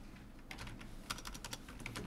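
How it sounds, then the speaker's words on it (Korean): Quiet, brief bursts of key clicks come from a computer keyboard as text is entered in AutoCAD, a handful of quick irregular taps at close range with no voices. "이때 타이핑을 합니다."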